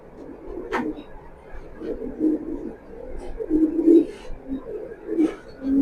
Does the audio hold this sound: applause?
no